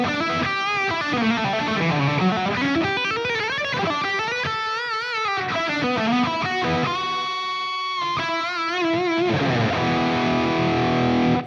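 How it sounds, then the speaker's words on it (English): An electric guitar lead plays through the overdrive channel of a Super Jack amp, a continuous distorted melodic line with bends and sustained notes, steady and loud, with no voices. "It's the Super Jack on its overdrive channel, which I think is a great sounding lead tone."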